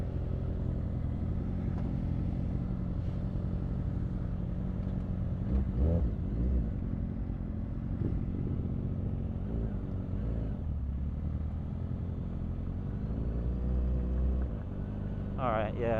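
Suzuki GSX-R sport bikes, including a GSX-R 600 and a GSX-R 1000, droning steadily on the road through a lap, engine rumble and wind noise continuous, with a voice talking briefly over it.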